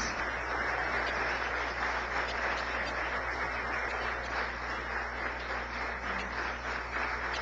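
A church congregation at an evangelical service applauds steadily, a sustained, moderately loud patter of many hands filling the hall for several seconds over a low background hum.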